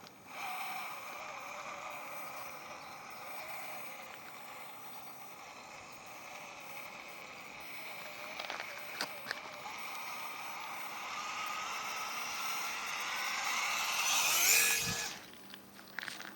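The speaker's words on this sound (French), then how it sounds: "On va laisser faire toute la beauté du moteur brushless." An FMS FCX18 LC80 RC car with a brushless motor drives through mud, its steady electric whine running continuously, close and moderately loud, swelling briefly near the end.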